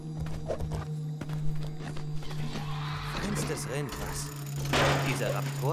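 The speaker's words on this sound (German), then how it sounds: "Ich muss jetzt mit der Kuh dahin reiten." A cow ridden in the LEGO Jurassic World video game, with rhythmic hoof clip-clops and footstep-like thuds under continuous talking and game sounds.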